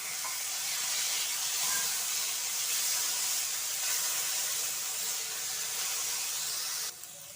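Tomatoes and chopped green chillies dropped into hot oil with already-fried mustard seeds, giving a steady, loud hiss of sizzling that holds evenly throughout and eases off right at the end.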